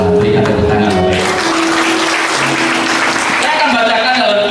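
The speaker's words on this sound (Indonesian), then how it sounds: "Berikan tepuk tangan Bapak Ibu." Loud, sustained congregation applause fills a church service, dense clapping from many hands throughout, with voices and some tonal sound mixed underneath.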